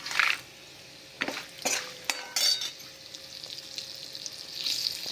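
Asafoetida and dry spices fry in hot oil with a soft sizzle, broken by several sharp clinks and scrapes of a spoon against the pan. Close and moderately quiet, with no talk.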